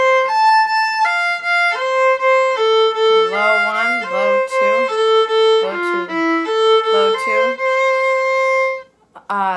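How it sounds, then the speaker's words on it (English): A violin plays measures 90-92 of the Seitz Concerto, first movement (Suzuki Book 4), at a slow practice tempo. A close, loud string of sustained bowed notes with slight pitch glides runs steadily, then breaks off briefly at the end. "I like to just go ahead and play those slowly."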